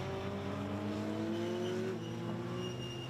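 A blue Lotus Elise race car laps a coastal track during trackday qualifying, its engine droning steadily at high revs with a faint pitch shift as it holds speed.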